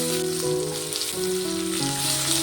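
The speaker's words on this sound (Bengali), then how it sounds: "মাছ ভাজা তেলের মধ্যে দিয়ে দেবো পেঁয়াজ কুচি।" Chopped onion hits the oil left over from frying katla fish and sizzles steadily, with broadband crackle running under tonal background music.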